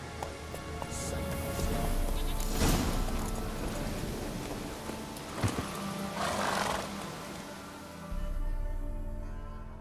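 Roach, the horse in The Witcher 3, gallops with heavy hoofbeats under a dense game soundscape, while loud whinnies and roaring animal cries cut through now and then.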